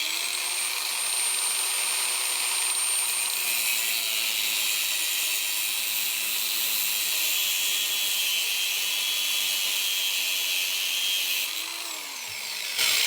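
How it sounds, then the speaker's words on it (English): Battery angle grinder cutting through braided AN hose, a loud continuous high whine held steady for several seconds, then dropping in pitch as it spins down at the end. "Get your grinder on there and away you go."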